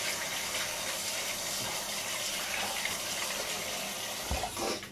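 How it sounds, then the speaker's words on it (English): Hands washed under a running kitchen tap, a steady close gush of water splashing into the sink that continues throughout, with a brief louder splash near the end. "let me just quickly wash my hands"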